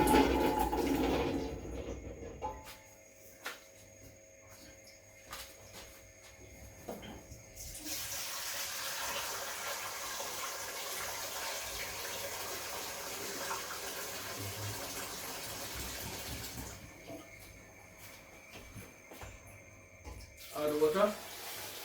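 Water pours steadily from a tap into a pot for boiling potatoes, a broad hissing stream for several seconds that stops, then resumes briefly near the end.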